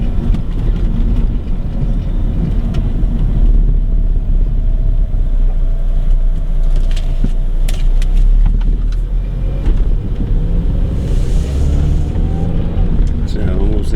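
A car drives along a road with a steady low engine and tyre rumble that holds loud and close throughout, while someone talks over it at times.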